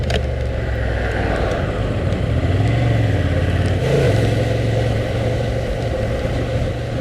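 A Honda Transalp motorcycle being ridden, its engine droning steadily throughout with a couple of brief rises in pitch, mixed with heavy wind rush.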